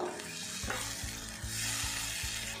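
Potatoes sautéing with spices in a pan, an even close sizzle broken by a series of rhythmic scraping strokes as the spatula stirs, with no voices.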